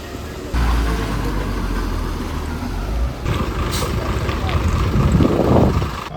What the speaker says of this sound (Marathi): ते बघा गाडी आली बोरसड बोरवली.